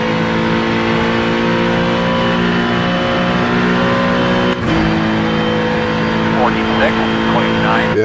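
A Corvette GT3 race car in the iRacing sim at Mugello holds a loud, steady engine drone with a brief dip midway, then keeps pulling hard with small shifts in pitch.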